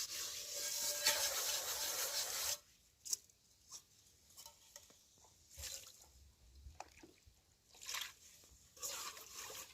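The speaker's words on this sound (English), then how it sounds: "You continue scrubbing until it is clean." A cooking pot gets scrubbed with sand outdoors in a village, opening with a steady loud rub, then turning into intermittent gritty scraping strokes with short pauses, close by.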